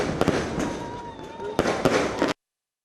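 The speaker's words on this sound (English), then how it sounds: "It's the fireworks for me." Fireworks go off outdoors at a celebratory send-off in Ghana, a run of sharp bangs and crackles over a dense crowd-like wash, with a tight cluster of pops near the end before the sound cuts off abruptly.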